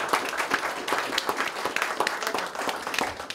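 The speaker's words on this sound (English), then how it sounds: "Can we give a round of applause for guys who've done great work?" Audience applause at a political event in a historic mansion in Washington state, a steady dense patter of many hands clapping throughout, fairly close and loud with no talk over it.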